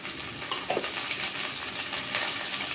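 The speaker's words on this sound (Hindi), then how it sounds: "जो हम वेजिटेबल कट करके रखे थे उसको हम डाल लेंगे" Chopped bottle gourd, peas, potato and cauliflower tipped into a pot for dal khichdi, a few quick clattering drops over a steady sizzle, close and moderately loud.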